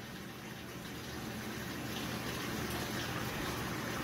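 Water gushes steadily into a GE HE washing machine, a continuous, loud rushing fill with no pauses.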